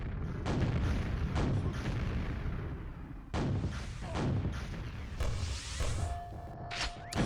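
Rockets and explosions in a QuakeWorld deathmatch duel: several heavy booming blasts with whooshing launches, loud and close, repeating irregularly over steady game noise, with a short tone near the end.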